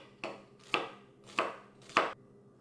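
A knife chops chanterelle mushrooms on a board in four crisp, evenly spaced strokes, close and clear in a quiet kitchen.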